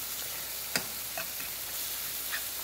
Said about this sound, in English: to saute these onions and green peppers and butter